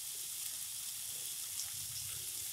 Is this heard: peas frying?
yes